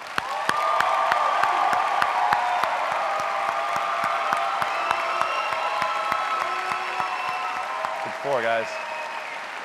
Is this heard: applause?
yes